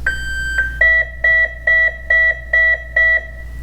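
On connecting the battery, the electronics of an E-flite Viper RC plane give one long tone, then seven short, evenly spaced beeps, close and clear over a low steady hum, with no talking.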